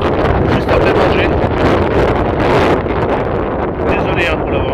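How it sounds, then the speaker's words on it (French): Strong wind buffeting a microphone on a coastal hike on the Île de Ré, loud continuous low rumbling gusts that swell and ease, with faint voices partly buried underneath. "Désolé hein, pour le vent."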